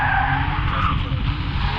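A car spins a donut, its tires skidding and squealing in a continuous loud screech over a heavy engine roar, close by and unbroken throughout.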